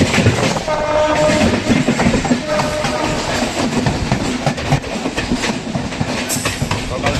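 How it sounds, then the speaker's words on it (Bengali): An Abra–Sealdah local train runs past on the Bongaon line from Barasat toward Duttapukur, a loud, steady rumble of wheels and carriages with rhythmic clattering and a horn sounding briefly, heard close by and continuous throughout. "সকাল সকাল আমাদের ট্রেনের সাথে দেখা হয়ে গেল আবড়া শিয়ালদা লোকাল।"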